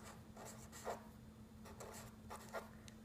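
A marker or chalk writing units onto a board for a double number line, short scratchy strokes in quick bursts, faint and close over a low steady hum.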